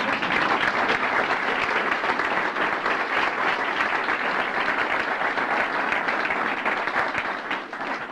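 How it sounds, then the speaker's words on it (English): An audience at a luncheon applauds steadily, a dense and sustained clapping that fills the room for several seconds before easing slightly at the end. "if I could ask for a round of applause for my friends"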